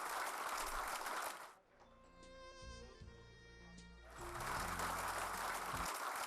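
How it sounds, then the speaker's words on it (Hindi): An audience at the Dhanwantri Doctor Award 2015 evening bursts into loud, dense applause, which breaks off for a short musical passage and then returns just as full and sustained. "जोरदार तालियों से संस्था, उनकी पूरी टीम, उनका अभिनंदन कीजिए।"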